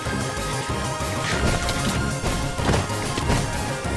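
Repeated smashing and crashing impacts as a player breaks through an enemy base wall during a video game raid, dense and continuous, with no clear talk.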